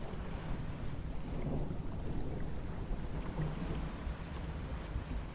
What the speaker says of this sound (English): Storms are brewing.